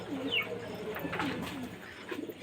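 A Kaldom pigeon coos close by, soft rolling throaty calls repeated a few times in quick succession, with no talk over it.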